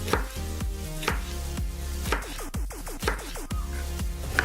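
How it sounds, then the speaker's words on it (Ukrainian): A knife slices a red bell pepper into strips on a cutting board while preparing a shrimp and mango shawarma, giving about nine crisp, close, fairly evenly spaced cuts with no talking. "Паприку нарізаємо смужками."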